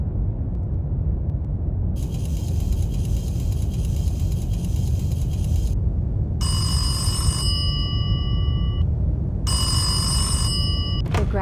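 Crank field telephone bell in a WWI mountain setting rings in two bursts, a buzzy metallic trill from about 2 to 6 seconds, then a harsher ringing pattern in short pulses later, over a constant low rumble.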